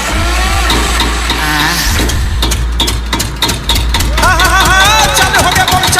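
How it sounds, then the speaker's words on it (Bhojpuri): Generator engine cranking and starting, then running with a loud, close, steady mid-pitched drone, with sharp knocking sounds and warbling tones over it; people talk over the noise. "अभी हम तेल रह के जनरेटर चालू करते हैं।"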